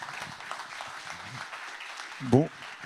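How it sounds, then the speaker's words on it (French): An audience at a talk on head and neck cancer surgery applauds the speakers, moderate scattered clapping under a voice, ending with a short louder thump near the end. "On peut les applaudir bien fort."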